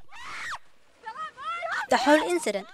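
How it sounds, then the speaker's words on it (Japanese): A woman shrieks in alarm after heavy rain as a man and a nine-year-old boy are suddenly sucked into a blocked storm drain. Several shrill, rising cries come in bursts with short gaps and breathy gasps between them. "おばさんが叫び声を上げています"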